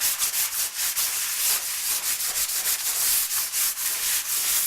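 A sign-making paper pattern is sanded to knock off raised fibers, giving close, steady, rhythmic scratchy rubbing strokes in quick succession, with no talking.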